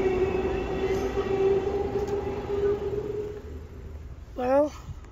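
The Amtrak Carl Sandburg passenger train rolls past in La Grange with a steady rumbling roar and a sustained horn-like tone, then a short bright wavering whistle-like burst near the end as a voice talks.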